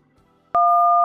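An iPhone calling voicemail sounds one steady dual-pitched tone that starts abruptly after near silence and holds loud and clean to the end.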